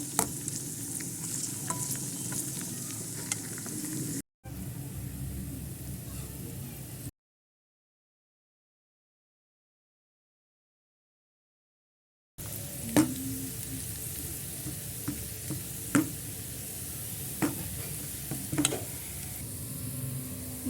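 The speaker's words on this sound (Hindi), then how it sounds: "ये देखिए तड़का हमारा रेडी हो रहा है।" Hot oil tadka for whole masoor dal sizzles and crackles steadily in a pan with occasional stirring clinks, broken by a short gap of silence midway, then resuming at the same close, even level with no talk.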